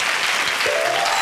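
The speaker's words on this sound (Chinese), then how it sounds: "掌声鼓励" A short, loud burst of studio audience applause on a Taiwanese variety talk show, dense and steady, with a brief tonal sound cutting in partway through.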